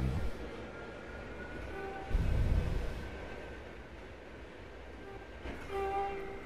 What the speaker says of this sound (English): We're just gonna honk at this real quick.